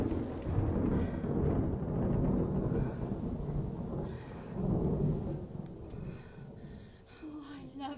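Thunderstorm effects in a radio drama: a low, continuous rumble of thunder swells and fades, with rain-like hiss throughout and faint voices underneath.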